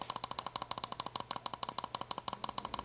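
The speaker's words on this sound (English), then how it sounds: "We swap out the standard pull triggers for mouse click buttons, and they sound like this." Mouse-click buttons fitted as the triggers of a PS5 controller are pressed in a rapid, steady stream of sharp, close clicks, about a dozen per second, for nearly three seconds.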